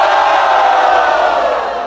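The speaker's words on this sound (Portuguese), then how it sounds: "barulho que gostou das imagens de Salvador." A loud crowd at a regional rap battle qualifier in Brazil roars and cheers for Salvador, a dense, sustained wall of shouting and whooping that stays close and heavy, then eases slightly toward the end.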